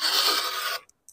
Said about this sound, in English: So I like to angle the scraper too.